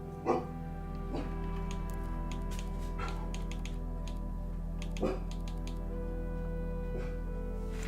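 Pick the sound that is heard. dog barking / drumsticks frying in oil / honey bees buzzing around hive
dog barking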